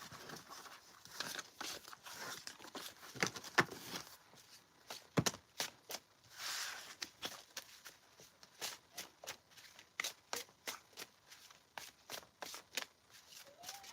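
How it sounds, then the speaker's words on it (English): Tarot cards being shuffled by hand, a close, quiet run of repeated papery riffles and snaps in an irregular rhythm, with no talking. "let's shuffle a little bit of these cards"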